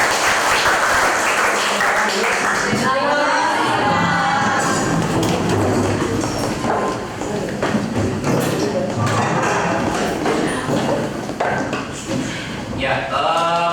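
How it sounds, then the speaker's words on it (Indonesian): Students in a classroom applaud, a sustained loud wash of clapping that runs throughout, with voices talking over it. "Beri aplaus dulu untuk kalian."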